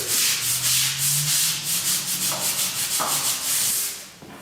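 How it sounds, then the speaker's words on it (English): Steady scrubbing of a brush against a concrete garage floor, continuous rough rubbing strokes close up, with no talking. "and scrub the area really good."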